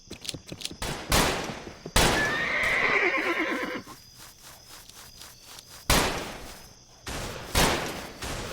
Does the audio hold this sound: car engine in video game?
no